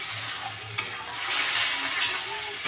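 Matar paneer is stir-fried in a pan, a close hissing sizzle broken by a sharp spatula scrape and rising briefly in intensity.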